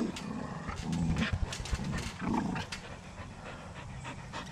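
Several puppies bounce on a trampoline, panting hard with bursts of growling and playful yips, close and fairly loud throughout.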